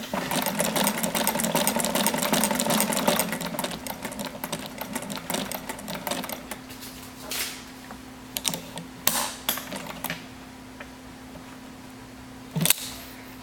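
An old sewing machine cranked by hand with no motor attached runs in a steady, fast mechanical clatter for about six seconds, then slows into scattered ticks and clicks, with one sharp knock near the end.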